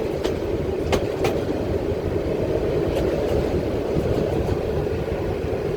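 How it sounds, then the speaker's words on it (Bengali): A train rolls into a station platform at Jamalpur railway station, its wheels clacking over the rails in a continuous loud rumble with occasional sharp clicks. "ট্রেন এখন স্টেশন প্ল্যাটফর্মে ঢুকতেছে"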